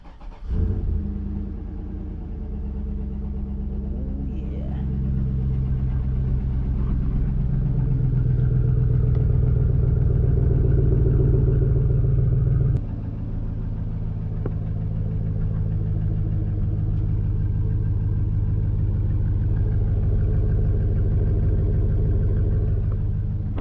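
A Chevy SSR engine idles and runs with a steady low rumble, close by and continuous, shifting slightly in pitch partway through.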